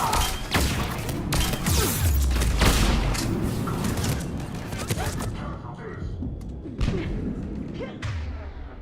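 Venom shotgun fire in the video game Mass Effect 3 comes as repeated heavy, booming blasts and thuds amid a dense, noisy combat scene, with voices talking through it.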